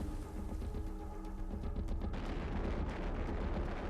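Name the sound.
cannon fire in a naval battle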